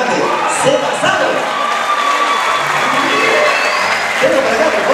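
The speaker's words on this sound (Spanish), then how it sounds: "Un aplauso más grande." An audience at a live event applauds and cheers in a dense, sustained wash of clapping with shouts, loud and continuous throughout.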